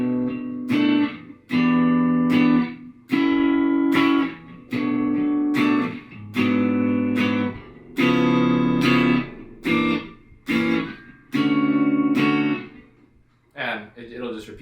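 An 8-bar chord progression played as a series of sustained, distorted, effects-laden chords in a steady repeating rhythm with short gaps between them, loud and close with no talking over it.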